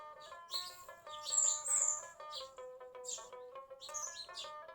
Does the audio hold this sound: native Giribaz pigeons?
yes